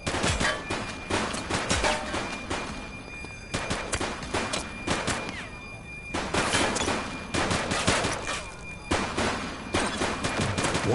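Dense automatic and single-shot gunfire from a police shootout in the video game The Precinct, loud, close and nearly continuous, with rapid bursts and brief pauses over the whole stretch.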